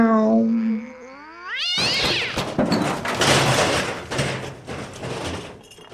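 A cat sound effect opens with a long, drawn-out meow that bends upward in pitch. It gives way to a few seconds of rough, clattering noise.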